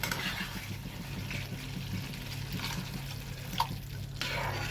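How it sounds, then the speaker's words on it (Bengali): Water is poured into a pan of well-fried spice masala for ghugni, making a soft, steady splashing hiss that runs through the whole stretch at a low, close level with no talking. "এবার পরিমাণ মতো জলটা কিন্তু আমি দিয়ে দেব।"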